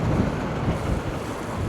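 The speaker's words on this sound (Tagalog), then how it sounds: "Lakas ng hangin." Strong wind blowing beside the Abacan River, a loud, continuous low buffeting roar right against the listener with small swells, no voices heard.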